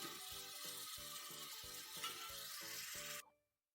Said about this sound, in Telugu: ఇందులో ఇప్పుడు టమాటా వేద్దాం. టమాటా కొంచెం వేగనిద్దాం.